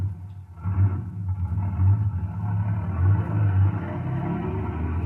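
Low, steady vehicle engine rumble with slight surges in revving, a heavy vehicle heading out into a windy mountain landscape as a sound effect in a science-fiction radio drama, with no voices over it.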